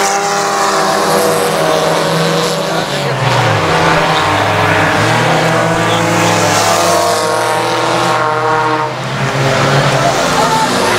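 Race cars on a short speedway roar past, with loud engine drones that sweep down in pitch as cars pass near, one car running with a smashed hood, and a commentator talking over the continuous racing noise.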